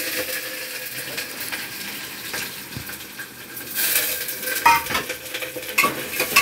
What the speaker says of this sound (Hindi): अब इसमें प्याज डाल दिया मम्मी ने।